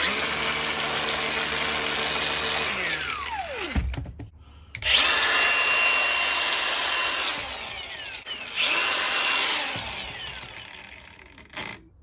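A cordless Milwaukee M18 paddle-switch angle grinder (2780-20) on an 8.0 battery, spinning up to a loud steady whine, winding down, then restarting twice with high tones.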